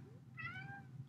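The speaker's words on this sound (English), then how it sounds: "I have a cat here who is participating in the lecture" A domestic cat gives one short, clear meow somewhere in the room, fairly faint behind the quiet hum of a remote lecture setup.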